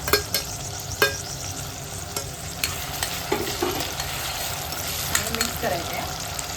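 Tomato, curry leaves, garlic and mint paste stirred in a frying pan for a chicken dish, a soft steady sizzle broken by intermittent spatula scrapes and taps, with a faint voice in the background.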